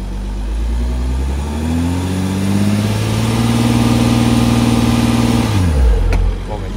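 A car stuck in mud on a night-time dirt track in Tunisia, its engine revving hard and holding a strained high pitch before dropping off, loud and close, with voices nearby.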